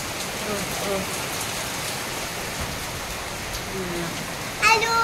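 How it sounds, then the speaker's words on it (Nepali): Heavy rain pours steadily in a dense, even hiss, drumming on surfaces close by, with a brief knock near the end. "कत्रो ठुलो झरी परिरहेको"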